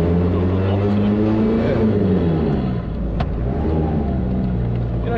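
Toyota Hilux N60 four-wheel drive with corrected caster ball joints being driven, a steady loud engine drone with shifting harmonics throughout, heard from inside the cab.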